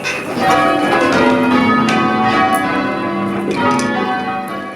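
Church bells ringing with long overlapping tones, loud and resonant, several strikes blending into a sustained metallic hum.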